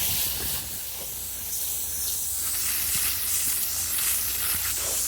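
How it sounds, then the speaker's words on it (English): A water hose sprayer hisses with a steady, fairly faint spray that grows a little stronger and more uneven toward the end, with no talk. "she's going to get the water spray"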